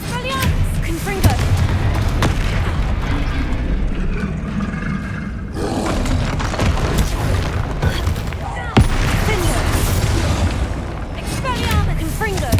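Confringo blasting-spell explosions in the video game Hogwarts Legacy give loud, heavy booms and blasts in rapid succession over a dense battle din, with voices shouting through it.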